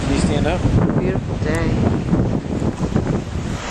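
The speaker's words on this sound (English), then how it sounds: "Watch the waves." Strong wind and ocean waves at a beach make a steady, loud roar with buffeting wind noise on the microphone, while people talk briefly over it.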